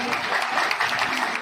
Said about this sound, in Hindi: तो भाई अनिल झा जी के लिए एक बार जोरदार तालियां बजाएं।